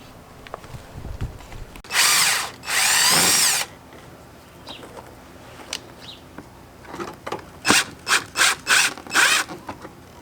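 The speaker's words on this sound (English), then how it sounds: "You're just going to drill a bunch of holes on each side" A power drill whirs in two sustained bursts while drilling holes in a car bumper lip, then several short quick trigger pulses follow, close by with no talking.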